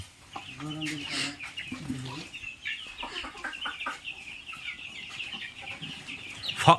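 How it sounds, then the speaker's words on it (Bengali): Several Fayoumi chickens cluck close by in a busy run, with a faint voice in the background and a sharp squawk near the end. "এই হচ্ছে আপনার ফাউমি মুরগি তাই না"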